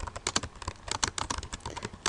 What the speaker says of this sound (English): which I'm typing on the slide that's selected